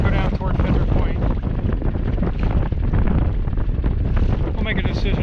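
Strong west wind buffets the microphone on a boat in Biscayne Bay, a loud, continuous roaring rush with gusty fluctuations throughout.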